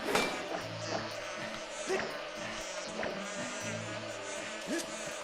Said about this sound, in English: I can't kill the bees.